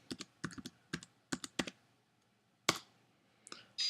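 Keys on a Mac computer keyboard tapped while a password is entered: several quick clusters of crisp clicks, then a pause and a sharper clack, with a couple more taps near the end, close and fairly quiet.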